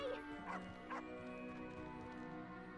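In the video game Hogwarts Legacy, a dog gives a few quick barks and yips, faint under the game's background sounds and music.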